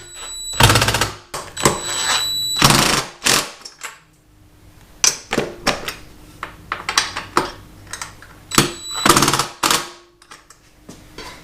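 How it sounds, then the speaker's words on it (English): Impact driver torquing down a nut on a Kawasaki KLX300 motorcycle rear rack, sounding as loud bursts of sharp rattling hammering, in about five separate rapid runs with short pauses between, close and alone with no talk. "torque it down with my impact driver"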